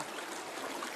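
Water of the Umsiang river in Meghalaya flows in a soft, steady rushing wash, faint and continuous for a brief moment with no voices.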